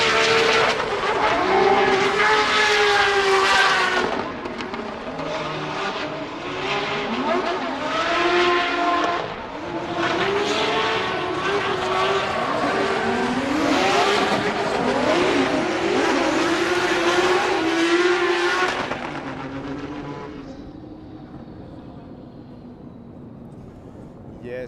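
Drift race cars warm their tires during practice at Drift Masters in Spain, engines roaring and revving loudly with squealing, skidding tires, sustained for about twenty seconds before fading, while commentators talk over the action.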